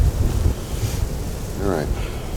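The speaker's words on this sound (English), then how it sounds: "I'm hoping the wind dies down just a little bit for just a moment while I do this." Strong wind buffets a microphone outdoors on a cold day, a steady loud rumble with gusting swells throughout.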